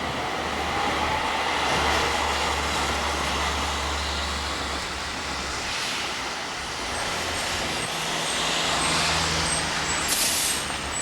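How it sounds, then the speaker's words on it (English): A tram in Amsterdam rumbles past with a low, droning hum, a brief hiss of brakes, and a high squeal near the end. "What's this? Another tram."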